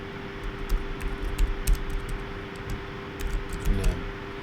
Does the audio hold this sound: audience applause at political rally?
no